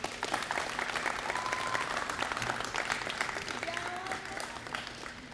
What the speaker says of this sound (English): So we can give her a clap here